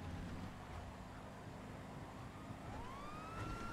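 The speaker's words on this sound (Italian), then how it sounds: "Auto della polizia che è apparsa dal nulla." A police car siren in the video game GTA V Online wails faintly through a steady city traffic rumble, its tone sliding upward near the end.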